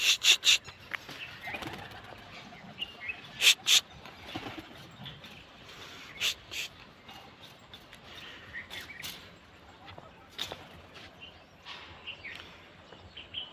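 Pigeons coo softly and intermittently, with occasional sharp flutters and scuffles standing out against a quiet background.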